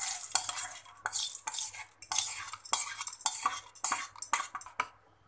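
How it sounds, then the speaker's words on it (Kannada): Fried chana dal ingredients tipped into a steel mixer jar, heard as close rattling, scraping and spoon clinks against metal in quick irregular bursts. "ಈಗ ನಾವು ಫ್ರೈ ಮಾಡ್ಕೊಂಡಿರೋ ಇಂಗ್ರೀಡಿಯೆಂಟ್ಸ್ನೆಲ್ಲ ಮಿಕ್ಸರ್ ಜಾರಿಗೆ ಹಾಕ್ಕೋತಾ ಇದ್ದೀನಿ"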